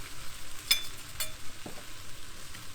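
Sticky sweet spicy sauce with lime juice sizzles faintly in a pan on a Big Green Egg while being stirred, a soft steady fry with a couple of brief scrapes and clinks.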